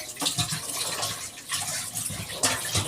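Tap water running and splashing while chicken is rinsed, a close, continuous gushing with uneven bursts of splatter.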